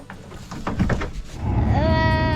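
A Nigerian Dwarf goat buck lets out a loud, wavering bleat close by, starting partway through after some shuffling and brief murmured voices.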